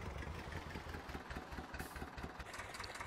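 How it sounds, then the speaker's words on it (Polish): A tractor engine idles steadily on a Polish farm, a low continuous rumble with a faint rhythmic pulse, distant and quiet, with no voices. "Przestawię gdzieś traktor, żeby nie przeszkadzał."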